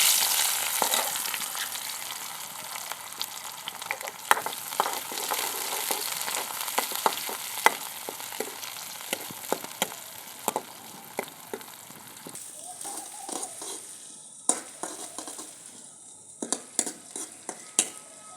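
Onion and garlic frying in a pot for Punjabi kadhi in a village kitchen, a steady close sizzle with frequent sharp stirring scrapes and clinks throughout.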